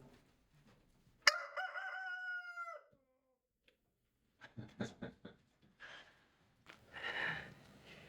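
A rooster crows once loudly and close by, a long sweeping call, followed by quieter clucks and a second, more distant crowing from the flock in their new coop.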